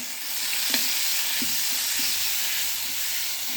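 Squeezed cabbage with turmeric frying in a pan, a close continuous hiss and sizzle broken by a few soft stirring knocks.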